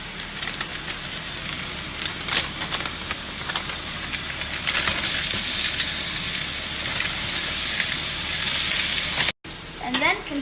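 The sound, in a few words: thawed shrimp stir frying with green pepper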